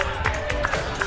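Cheering and clapping from a large roadside crowd of supporters at the 2022 Manchester Marathon, around mile 21, a steady dense roar with brief louder swells.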